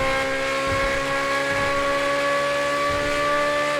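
A Corvette C8 Z06 with a V8 engine in the video game GTA 5 drones loudly at high, steady revs in top gear, its tones slowly climbing, with no talk over it.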